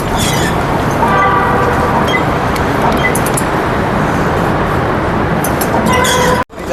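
A metro train running, a loud continuous rumble and rush with faint high squeals, steady throughout and broken by a sudden brief dropout near the end.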